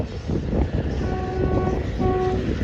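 A passenger train near Dwarka rolls along at a slow pace, with a steady low rumble and faint tonal hums from the moving carriages continuing throughout.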